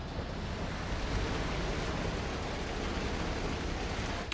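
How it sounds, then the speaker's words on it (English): Concrete pours from a mixer truck chute in Construction Simulator 2, a steady, dense rushing wash that stays constant and fairly loud with no talk over it. "Make sure we have some concrete in there."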